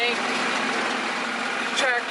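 An old tractor engine runs in a hot shed with wide-open doors, giving a steady, loud broadband drone that holds for the whole stretch, with some voice-like sound mixed in.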